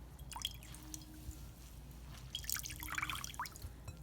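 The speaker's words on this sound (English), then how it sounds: "I'm just gonna gently squeeze the water out." Water drips and patters from a soaked hand-knitted daisy cardigan being gently squeezed over a desk, a few soft irregular drops and wet squishes close by in a quiet room.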